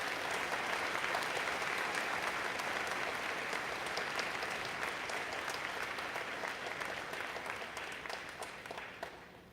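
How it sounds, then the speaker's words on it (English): A school prize day audience gives a sustained round of applause for the grade 11 prize winners, dense and even clapping that holds steady and tapers off slightly at the close. "we could have a round of applause for this group of grade 11 prize winners"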